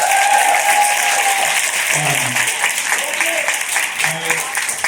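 An audience at a stand-up comedy show breaks into applause, a dense wash of clapping with a few voices calling out over it.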